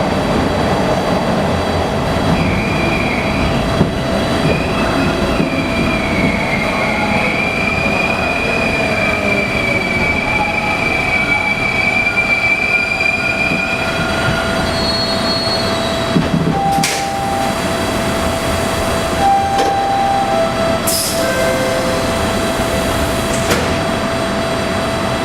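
Steady rumble of a TTC Bombardier T1 subway train in motion between Toronto stations, with a long rising wheel squeal and brief higher screeches over the continuous drone, no voices.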